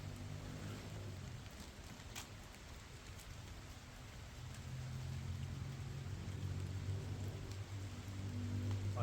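Steady rain hisses and patters continuously at an outdoor bushcraft cooking site, growing slightly heavier toward the end, with occasional louder drips against a surface.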